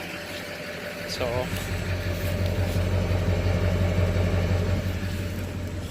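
A low, steady idle from a 2006 Duramax LLY diesel truck engine rumbles throughout, with a brief spoken word near the start over the constant exhaust drone.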